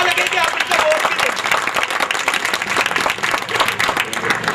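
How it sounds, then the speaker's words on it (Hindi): People at a Rabi ul Awwal ceremony applaud loudly and densely while other voices mix in beneath the clapping. "इनके लिए और तालियां एक दफा"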